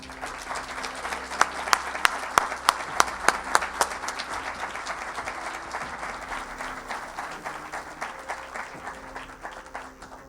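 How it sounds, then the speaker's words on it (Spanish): Audience applause at a ufology congress talk in Barcelona, dense steady clapping with a few sharp louder claps near the start, gradually thinning out over ten seconds. "Le pido un fuerte aplauso"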